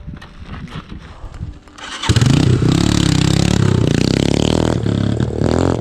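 A motorcycle engine starts up loudly after a quiet stretch, then runs with a steady, rough rumble close by, on a mountain ride from Jomsom toward Upper Mustang.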